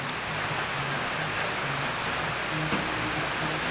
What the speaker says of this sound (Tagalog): Umulan-ulan.